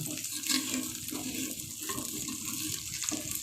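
Water is poured into a frying spice masala in a clay pot for chicken curry, giving a continuous close splashing, gushing sound with a loud sizzle beneath and no voices.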